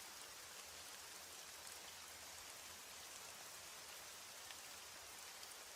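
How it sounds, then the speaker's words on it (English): Steady rain falls at night, a soft, even hiss of drops on surfaces that continues unbroken and fairly faint throughout, with no voices. "As the rain falls and the night deepens"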